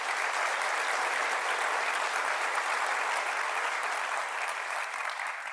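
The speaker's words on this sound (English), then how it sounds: "Let's give our honored guests a round of applause." A large audience at a college convocation claps for honored guests, a dense, sustained round of applause heard close and loud, fading slightly near the end, with no speech over it.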